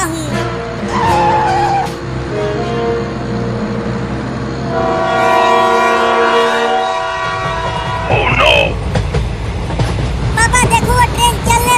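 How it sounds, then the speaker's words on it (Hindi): A cartoon train pulling away, with loud tonal horn blasts layered over a steady rumbling rail drone that swells midway and then gives way to rattling, clattering noise near the end, all up close. "पापा देखो, वो ट्रेन चलने लगी।"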